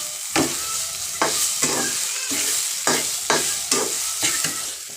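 Grated coconut fries with carrot and beans in a pan, with a loud steady sizzle and about seven rhythmic spatula scrapes sweeping through at roughly even intervals, up close.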